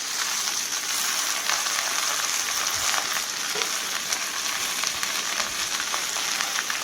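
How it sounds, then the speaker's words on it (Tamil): Moringa (drumstick) leaves sizzle steadily as they sauté in a frying pan for a Tamil poriyal, a continuous close hiss with faint stirring crackles and no talk. "பாத்திரத்தில் போட்டதையும் நீங்கள் வந்து உப்பு போட வேண்டாம், ஒரு 2 நிமிஷம் வந்து வதக்கி விடலாம்"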